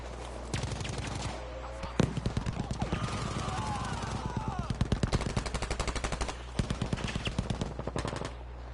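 Rapid automatic gunfire rattles through a multiplayer video game battle, bursts and single shots repeating loudly over a continuous low rumble, with voices talking underneath.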